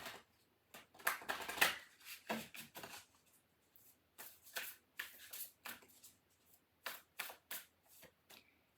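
Spellcasting oracle cards shuffled by hand in a quiet room, a run of close, crisp riffling bursts and soft slaps coming in uneven clusters, with brief pauses between.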